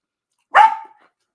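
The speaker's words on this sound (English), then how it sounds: "Because now the dog is trying to take it all." One sharp, loud dog bark close by, a single short burst that trails off quickly into silence.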